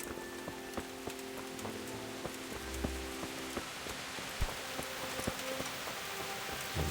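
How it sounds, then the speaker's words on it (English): Steady rain falls in the medieval game Kingdom Come Deliverance, a dense, even hiss of drops on surfaces with scattered sharper patters and a few faint low thuds, heard alone without talk. "Oh, great, it's raining."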